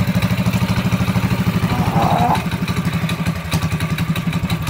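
A new 212cc mini bike engine with a CVT runs steadily after the choke is switched off, its rapid, even engine pulse close and loud, briefly rising in pitch midway before settling back.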